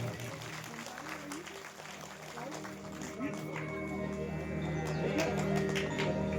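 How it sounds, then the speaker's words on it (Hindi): Loud audience applause swells at a Shiv Puran katha gathering, with crowd noise and a voice over it; clapping grows denser toward the end amid background chatter. "एक बार जोरदार तालियां।"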